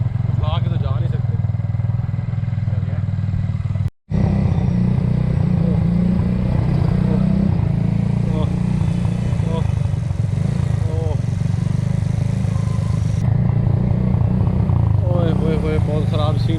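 A motorbike carrying riders and a gas cylinder rumbles steadily through narrow alleys, its engine drone loud and continuous with a brief cut partway, while people talk over it.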